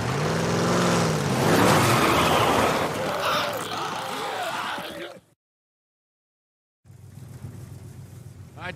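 A truck engine in The Last of Us Part 1 roars and revs as the vehicle drives off amid gunfire and shouting, loud and busy, then cuts to silence before a lower engine drone returns under the action.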